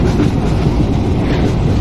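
An intercity express with ICF coaches runs from Indore toward Bhopal in Microsoft Train Simulator, producing a steady low rumble of rolling wheels and carriage noise, loud and continuous.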